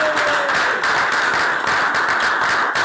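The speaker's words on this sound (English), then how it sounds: "give yourself an applause" A chapter meeting audience in Dallas breaks into sustained applause, a dense, loud, even roar of many hands clapping close by, with no voices rising above it.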